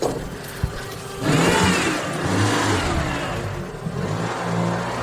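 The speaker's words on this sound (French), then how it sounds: "Là, il y a une voiture qui rentre." A car pulls in at a house and garden in Belgium, its mid-pitched engine swelling near and revving as it enters, then idling and whirring steadily with a few light knocks, no talk.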